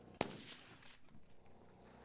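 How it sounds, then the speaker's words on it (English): A single sharp, distant rifle crack from a long-range shooting competition at two miles, followed by a fading outdoor echo. The shot is faint and brief. "the first shot is a miss"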